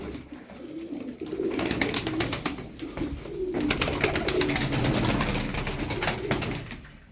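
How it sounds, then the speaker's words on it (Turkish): Tumbler pigeons coo repeatedly and overlap in a dense, continuous chorus, with fluttering and soft rustling throughout, close and fairly loud. "Var abiler güzel kuşlar var elimde bakın."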